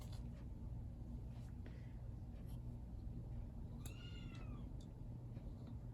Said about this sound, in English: Oh my God, he's screaming now, little kitten.